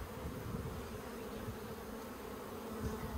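Honey bees hum steadily at an open hive during splitting of colonies with plastic frames in Australia, a close, even drone of many wings with no voices.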